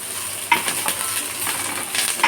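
Flax seeds and sesame seeds frying in coconut oil give a soft, close sizzle, broken by a few light metallic clinks of a utensil against the pan.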